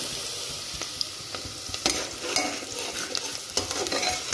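Garlic, onion and cardamom fry in ghee with a close, continuous sizzle and crackle, while a spoon stirs and scrapes the pan in irregular strokes.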